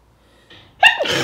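One sharp sneeze up close, preceded by a quick inhaled gasp and ending in a loud, airy blast.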